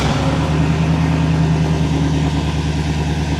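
A flathead engine in a 1928 Ford Model A roadster pickup hotrod runs on a cold start, holding a steady, close, loud idle with an even low rumble throughout.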